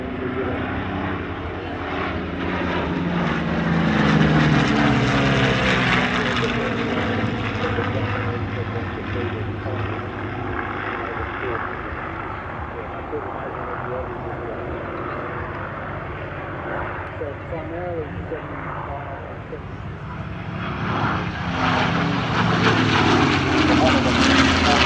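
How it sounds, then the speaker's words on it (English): A pair of Mustang fighters, an Australian-built CA-18 and a P-51D, fly past at the Shellharbour airshow, their piston engines droning and swelling, fading mid-pass and building again toward the end, with a voice talking over them. "We also enjoyed a two-ship of Mustangs, one Australian-built CA-18 and one P-51D."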